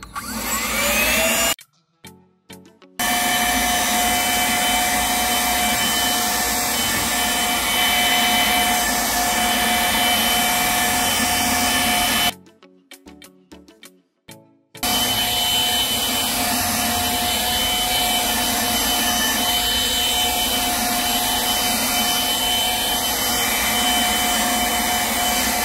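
54V cordless leaf blower (ES LB454) blowing air, a loud steady roaring whoosh with a faint high whine, cut off twice by short breaks before starting up again.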